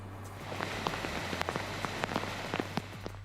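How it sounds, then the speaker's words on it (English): Heavy rain pours steadily across Metro Vancouver during a major British Columbia storm, a dense continuous hiss broken by scattered sharper drops hitting surfaces, with a low hum beneath. "Up to 90 millimeters of rain has fallen across Metro Vancouver since yesterday"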